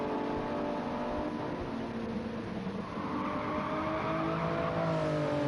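A Toyota Supra and a Lexus race cars in a video game endurance race at Watkins Glen, with engines droning steadily at high revs close by, pitch rising and shifting continuously as the cars run nose to tail.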